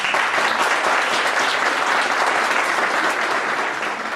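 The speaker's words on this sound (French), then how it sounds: "Et je crois qu'eux aussi méritent vos applaudissements" A village audience at a New Year's wishes ceremony applauds steadily, a broad even wash of many hands clapping at moderate level that carries on without a break and eases slightly toward the end.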